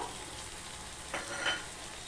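Spices sizzle in a hot pan after a splash of water is added for a Bengali fish curry, a steady close frying hiss with a brief stir-like burst in the middle.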